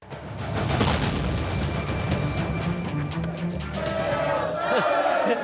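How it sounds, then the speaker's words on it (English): Crowd of Eagles football fans tailgating at the Varsity restaurant in Atlanta, a loud, continuous roar of many overlapping voices and shouts, with scattered cheers close by. "Yeah, it's a good crowd."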